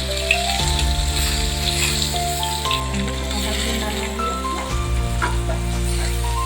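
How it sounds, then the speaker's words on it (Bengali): Pumpkin leaves go into hot oil and fry with a crackling sizzle, heard up close under a steady tonal background hum. "গরম হয়ে গেছে, পাতাগুলো আমি আস্তে আস্তে করে ছেড়ে দেবো,"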